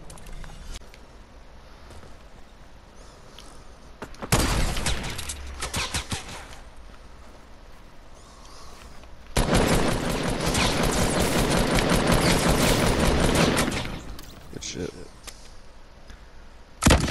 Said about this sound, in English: I can't believe I just sniped that dude.